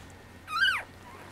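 A female blue merle puppy gives a single short, high, rising-and-falling whimper, close and soft over a quiet background.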